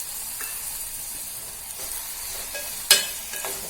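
Ginger garlic paste, about one and a half spoons, fries in a pan over softened onion and tomato for chicken liver masala. A soft, steady sizzle runs throughout, with faint stirring scrapes and one sharper clink near the end.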